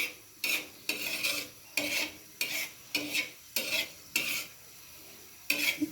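Chili, onion and garlic fry in a pan while a spatula scrapes and stirs in about nine quick, evenly spaced strokes over a low, steady sizzle, close and clear with no talking.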